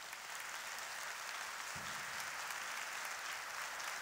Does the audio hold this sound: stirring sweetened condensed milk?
no